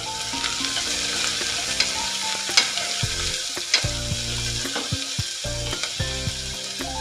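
Sliced onions added to hot oil tempering for a bitter gourd gojju sizzle steadily and loudly up close. A spoon stirs through the pan with repeated scraping knocks, and no one speaks.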